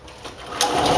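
An orange moped engine cranks briefly and sputters without catching, a short buzzy mechanical rattle close to the microphone.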